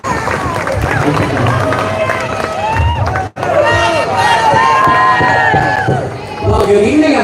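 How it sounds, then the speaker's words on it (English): Crowd at an outdoor political rally cheering, whooping and applauding for a speaker, a dense, loud roar of voices and claps that briefly cuts out, then surges again. "So let's give him a round of applause"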